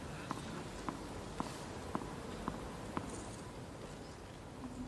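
Hushed crowd atmosphere at the 2008 Wimbledon men's tennis final, with a steady run of soft, evenly spaced ball bounces on the grass court under a low, quiet ambience.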